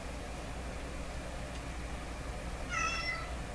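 A pet cat gives a single short meow near the end, faint under a steady background hiss.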